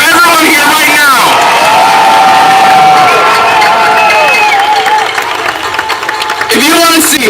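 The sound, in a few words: protest crowd cheering and applauding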